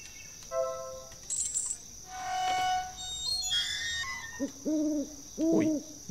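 Hoots from an owl in the video game Yuppie Psycho, with two-note calls sounding near the end over faint insect-like ambience and scattered chimes and tonal game effects, all with no speech.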